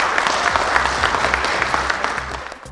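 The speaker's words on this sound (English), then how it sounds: "Let's have a huge round of applause for Arden University." Audience at a graduation ceremony applauding, a dense, sustained clapping from a large crowd that holds steady and then begins to thin toward the end.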